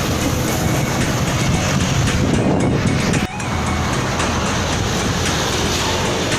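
Tugboats rumble beneath the Mahakam bridge amid passing motorbikes and cars, a loud, continuous low roar of engines and traffic with a brief dip midway, no voices.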